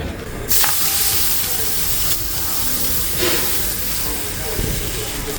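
A cucumber thalipeeth flatbread lands on a hot tawa, setting off a sudden loud hiss that settles into a steady, close sizzle lasting several seconds with slight surges.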